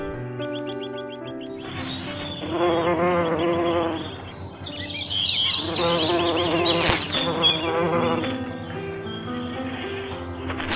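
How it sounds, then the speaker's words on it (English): Honeybees buzz around flowers such as sunflowers, a continuous droning hum that swells and fades as insects move nearby, loud and close throughout. "The honeybees, being large in population, pollinates most of the flowers."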